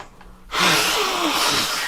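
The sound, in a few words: sneeze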